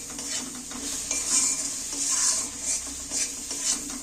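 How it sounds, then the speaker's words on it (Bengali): Chopped tomatoes being stirred and fried in a pan for a vegetarian Bengali dinner dish, heard as a continuous sizzle with soft rhythmic scraping strokes of a spatula, nearby and fairly loud, without speech. "টমেটোটা যতক্ষণ না ভেজে কাঁচা গন্ধটা যাচ্ছে ততক্ষণ আমি একটু নাড়তে থাকবো"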